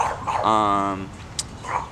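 A single drawn-out dog whine or yelp rings out close by, followed by a brief sharp click and faint rustling.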